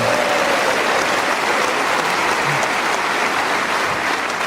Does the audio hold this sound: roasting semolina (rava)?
no